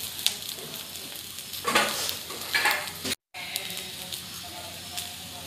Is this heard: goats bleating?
no